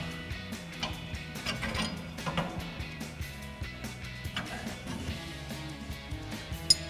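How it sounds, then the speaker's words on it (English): A ratchet works loose the factory U-bolts on a 2007-2021 Toyota Tundra's suspension, sending out a steady run of quick close clicks and mechanical rattles for several seconds with no talking. "Now we can go ahead and remove our factory U-bolts."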